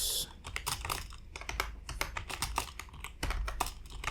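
Fingers type a Python script on a computer keyboard, a rapid, irregular clatter of close keystrokes that runs continuously with small pauses.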